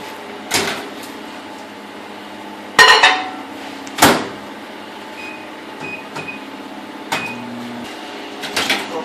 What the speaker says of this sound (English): Now we're going to put this milk in the microwave.